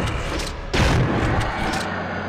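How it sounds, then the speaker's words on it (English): A grenade launcher booms in Resident Evil 2 on PS1 during the William Birkin boss fight, with one heavy blast rolling over a steady rumble of game noise. "I kind of just fired all my grenades at him"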